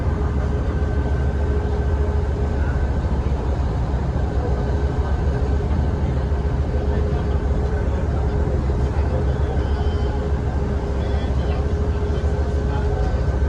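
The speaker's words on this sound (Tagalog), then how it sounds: "medyo maingay yung makina" A steady, loud boat engine drone with a constant low rumble and a faint mechanical whine runs unbroken throughout, heard from on board a boat travelling to Masbate in the Philippines.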